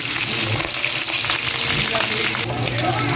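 Pork belly fries in hot oil with a dense, steady sizzle and crackling splatter that runs loud and close throughout, with a voice talking faintly over it.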